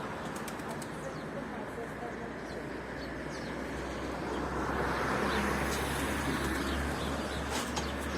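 Pigeons coo softly in a noisy outdoor setting, with scattered bird calls and a steady low traffic rumble underneath.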